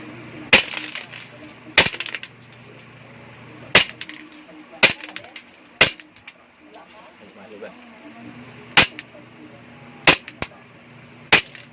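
Gas airsoft pistol, a WE Glock 35, fired semi-auto: eight sharp, loud single cracks at irregular intervals over about twelve seconds, with faint background noise between shots.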